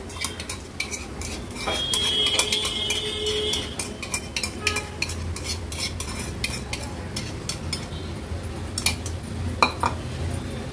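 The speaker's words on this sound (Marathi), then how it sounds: "आता आपण हे भिजवलेलं बेसनचं पीठ घालूया" Soaked gram flour batter stirred into cooked onions in a pan over a medium flame: a steady frying hiss under continuous spoon scraping, with sharp metallic clinks against the pan.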